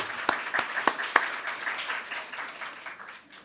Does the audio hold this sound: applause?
yes